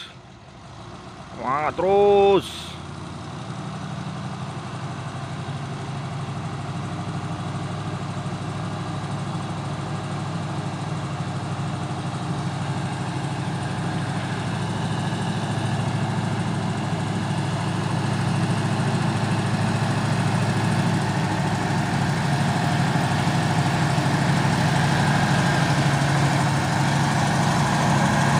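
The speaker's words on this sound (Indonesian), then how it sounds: "Truk trailer pus ini ya, membawa kontainer." A container-hauling trailer truck runs its engine at length with a steady low rumble that grows slightly louder over time, while brief talk is heard near the start.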